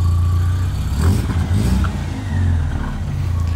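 A Ford Escort XR3i engine, close by and loud, runs with low mid-pitched revving that swells around the first second and again near two and a half seconds, then settles back to a steady idle-like hum.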